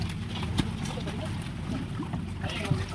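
A boat engine runs at a steady low drone close by, mixed with wind buffeting the microphone and water sounds, with people talking over it.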